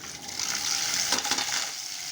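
Water driven by a DAP 250 watt jet pump rushes onto a small turbine, a steady close hiss and spray with a brief surge in the middle.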